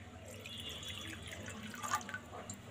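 Water runs and trickles quietly into a cup or pot for a chilli sauce, a soft, close pouring splash that swells briefly near the end.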